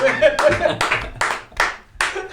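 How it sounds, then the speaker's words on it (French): A few people clap in short bursts during a podcast, six or so quick rounds of claps close by, with talk and laughter mixed in between. "On peut quand même t'applaudir, t'as vraiment été beau."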